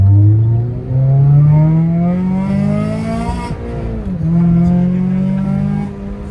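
A car engine revving in a video game, with a tone likened to a Honda. The engine climbs through rising rev sweeps, dips briefly near the middle, then revs up again, loud and steady throughout.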